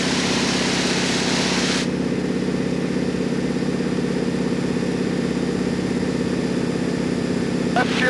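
Propeller airplane engine at takeoff power in an aerobatic training aircraft with retractable landing gear: a loud, steady, droning roar that holds throughout, with its upper hiss dropping away after the first couple of seconds.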